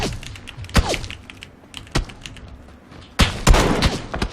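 Scattered gunshots in a video game, single sharp cracks and short clusters with quiet gaps, ending in a denser volley of shots.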